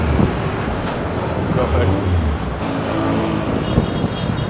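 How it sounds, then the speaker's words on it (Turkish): Heavy street traffic in Canggu, Bali: a steady, dense roar of cars and motorbikes close by, continuous throughout, with a voice speaking briefly over it. "Acayip bir trafik var."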